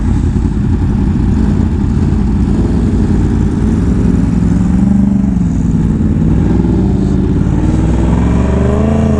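A Yamaha R1M sport motorcycle rolls slowly in neutral, its engine droning steadily and loudly up close with a low rumble and slight rises and falls in pitch throughout.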